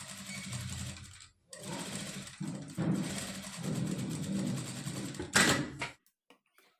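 Nearby, a sewing machine stitches a Peter Pan collar princess-cut blouse in short whirring bursts separated by brief pauses, then falls silent apart from a few faint clicks.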